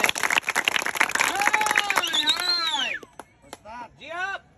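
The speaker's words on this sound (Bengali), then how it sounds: "পোলাপান একটা তালি মারো দেখি আপনারা না জোরে একটা তালি মারো" Crowd clapping and cheering at a street snake-charming show, a dense burst of applause over the first three seconds, loud and close, with a voice calling out through it before fading into scattered noise.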